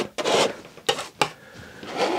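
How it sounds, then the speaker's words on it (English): A brush scrubs oil paint onto canvas in a wet-on-wet still life of garden vegetables, close rasping strokes with a few sharp pushes and scratchy drags, no talk. "Rubbing that paint in,"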